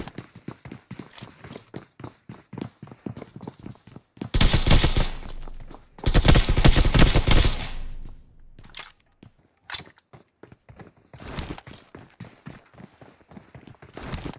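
Gunfire in a battle royale shooter, rapid clicking shots and footsteps broken by two loud sustained bursts of automatic fire, then scattered single shots, close and loud, with no one speaking.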